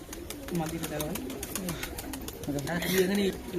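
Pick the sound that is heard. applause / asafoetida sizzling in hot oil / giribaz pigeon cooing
giribaz pigeon cooing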